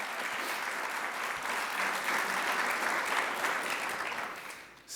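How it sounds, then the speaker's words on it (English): A large audience applauds steadily at a formal breakfast event, a dense even wash of clapping that holds for several seconds before tapering off abruptly at the end. "You can clap, yes."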